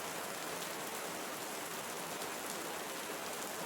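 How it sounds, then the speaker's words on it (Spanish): Steady rain falls in a Costa Rican forest, a dense, even hiss of drops on leaves and ground, soft and continuous without pauses or voices. "La lluvia produce una variedad de frecuencias."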